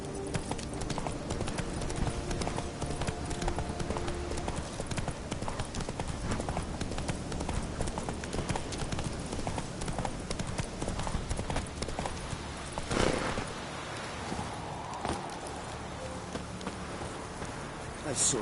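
Roach, a horse in The Witcher video game, gallops with a steady rhythmic clip-clop of hooves under continuous game music and ambience, with a brief louder burst partway through.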